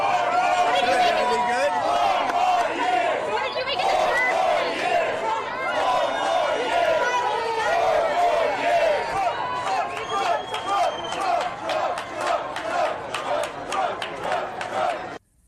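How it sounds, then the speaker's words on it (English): A crowd at a Harlem bodega chants for Trump, with rhythmic shouted calls and cheering, and the chant turns into sharper clapped beats toward the end. "Trump's staff might have instigated these chants among the crowd"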